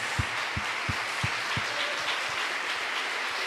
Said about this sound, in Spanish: aplauso al que se lo merece